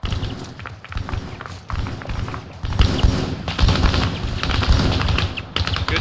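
Bursts of rifle and machine-gun fire in an Arma 3 co-op firefight, sharp cracks and rattling volleys coming in uneven clusters at close to middle distance, growing denser toward the end.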